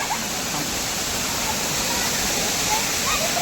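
A family's privately owned waterfall roars as a steady, loud, unbroken rush of falling water, dense broadband noise holding even throughout with no voices standing out.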